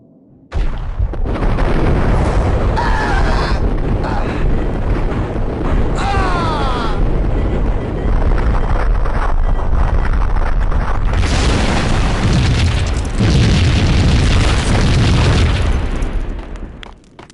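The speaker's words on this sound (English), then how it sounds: "Fuck is all that explosion?" Explosions in the Max Payne video game, loud booming blasts and rumbling bursts rolling almost continuously for over fifteen seconds.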